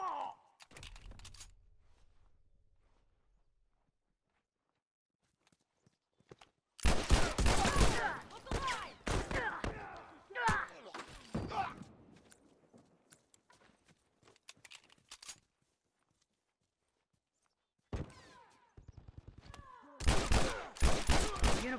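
Gunfire in The Last of Us, bursts of sharp loud shots in rapid clusters separated by quiet gaps, with a long silent stretch in the middle and a final volley at the end.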